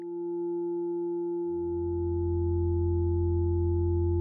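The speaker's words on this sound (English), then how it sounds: "Combining the main output with the sub output can make a big," Erica Synths Black WaveTable VCO running in VCV Rack, a steady sustained drone tone joined after a second and a half by a deep sub-oscillator an octave down, swelling into a big, round, continuous hum.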